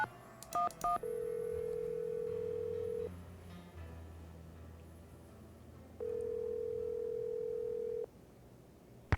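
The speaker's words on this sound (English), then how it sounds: "Go ahead and use the phone in the ticket booth." In the Nancy Drew video game, a phone in a theater ticket booth sends a quick burst of touch-tone dialing beeps, followed by a long steady tone, a pause with low background hum, then a second long tone; no one speaks.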